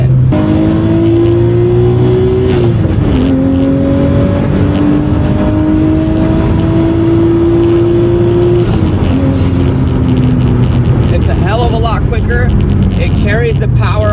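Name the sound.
Nissan Skyline R32 with RB25 turbo accelerating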